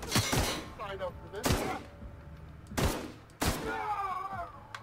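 Guns firing in the video game The Outer Worlds: four loud, sharp bursts spaced about a second apart, each with a ringing tail over a steady background hum.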